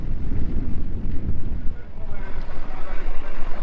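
Steady wind buffeting a microphone at a harbour on Saint-Martin, a continuous low rumbling roar with gusty swells throughout, with faint boat-related noise mixed in.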